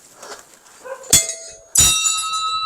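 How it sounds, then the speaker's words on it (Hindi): A metal bell is struck twice, the first a bright clang, the second louder and left ringing with a long, sustained metallic tone. "हाँ घंटी बजाओ आप"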